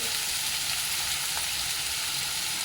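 Cumin seeds sizzle in hot oil in a pan, the start of an okra dish made with yogurt and gram flour, giving a steady, close, crackling hiss with no voices.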